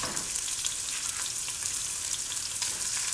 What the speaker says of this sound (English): We're gonna cook up our sausage first.